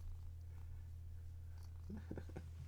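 A cat purring softly and steadily under a constant low hum, with a few faint higher sounds near the end and no speech.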